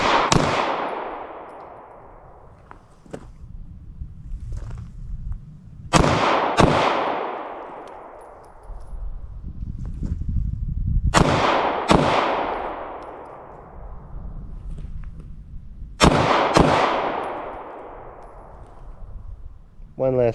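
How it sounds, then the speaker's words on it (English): Glock 43x 9mm pistol fired at a range in pairs of quick double taps, three loud sharp bursts spaced several seconds apart, each ringing out with a long echoing decay. "got 9 rounds in this bad boy, and like I said, we're going to do a couple double taps"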